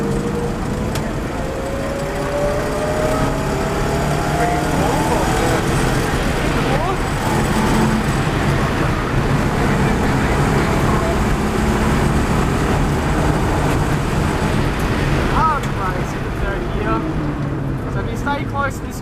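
A race car on the Norwell Motorplex circuit accelerates hard, its engine drone rising in pitch under road and wind roar, with a driver talking over it throughout.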